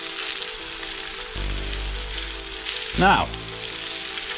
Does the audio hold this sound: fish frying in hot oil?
yes